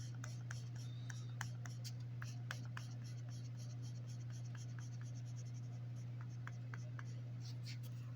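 Light, soft scratching of a colored pencil barely touching paper as a knight's visor is shaded, a steady run of small strokes close up over a low constant hum.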